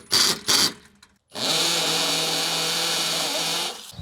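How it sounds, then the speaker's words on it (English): A power drill with a chowdered bit bores a pilot hole through concrete in a shed, two short bursts followed by one long, steady, loud grinding run that stops abruptly. "It's actually drilling through the concrete rather well."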